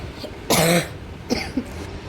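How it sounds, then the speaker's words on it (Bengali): A person coughs: one loud, harsh cough followed by two shorter, softer coughs, close and clear with no talking. "প্রচণ্ড কাশি হচ্ছিলো ওই জন্য একটু মিউট করে দিয়েছিলাম ভয়েসটা"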